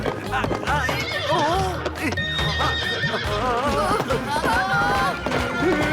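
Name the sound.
horse neighing and galloping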